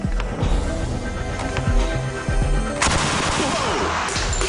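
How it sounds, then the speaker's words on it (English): A Tommy gun fires as a runaway, continuing after the trigger is released, producing a dense, loud burst of gunfire that intensifies near the end. "Even though I've let go of the trigger, the weapon's still firing."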